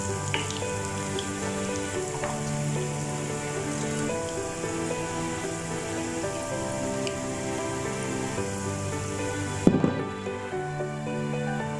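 Whole cumin seeds and dried red chilies fry in hot oil for a tarka, giving a steady crackling sizzle with faint background music and a sharp clatter near the end.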